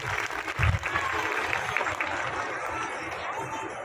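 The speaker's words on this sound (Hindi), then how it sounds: "तालियां।" Applause from an audience at a college convocation ceremony follows a motivational speech, a steady wash of many hands clapping with a low thump early on and crowd murmur underneath.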